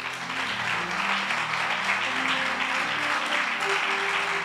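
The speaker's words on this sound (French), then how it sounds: "Est-ce qu'on peut acclamer le Seigneur?" A church congregation applauds and cheers for the Lord, with dense, continuous clapping and voices filling the hall throughout, loud and steady from start to finish.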